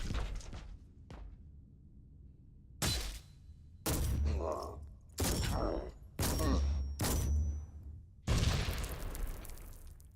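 Shotgun blasts in the video game Warhammer 40K: Inquisitor - Martyr, about six loud, sharp booming shots spaced roughly a second apart, each with a brief rumbling tail, following quieter thuds and a faint voice.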